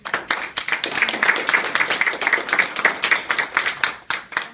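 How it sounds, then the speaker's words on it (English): An audience at a jury diversity forum in Detroit applauds its panelists: steady, dense clapping from many hands fills the room at a moderate level, with individual claps popping through the wash throughout. "If we could give them a round of applause"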